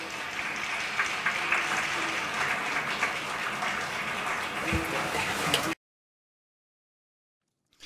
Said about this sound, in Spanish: Interesante lo de la aclamación y los aplausos